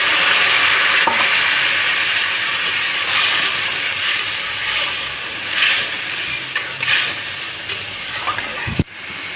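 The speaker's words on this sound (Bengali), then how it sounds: "এবার আমি একটু উষ্ণ গরম জল ঢেলে দেব।" Warm water poured into fried spice paste with yogurt in a pan while cooking a koi fish curry, giving a loud, steady hissing sizzle that slowly eases, with a few stirring clicks and a sharp knock near the end, close up.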